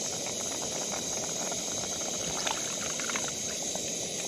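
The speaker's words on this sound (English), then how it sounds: "I'm gonna boil up some water and use my spoon and just kind of clean up my rag" Water boils in a pot while a dirty rag is cleaned outdoors on a solo survival trip, giving a steady close hiss and bubbling seethe with faint pops, without talk.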